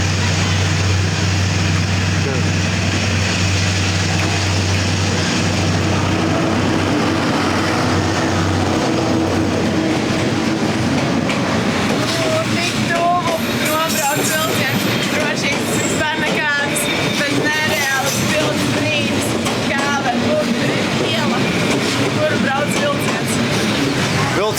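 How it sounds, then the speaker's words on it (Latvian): A train rolls slowly through a narrow street in Hanoi, Vietnam, a steady low rumble with a deep horn-like drone early on, amid busy street bustle, a whistle, and people talking nearby. "Gaidām vilcienu un izskatās, ka šoreiz nāks no otras puses."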